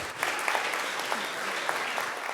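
Steady applause from guests at a wedding reception held in an art centre, a full room clapping evenly throughout with no pauses.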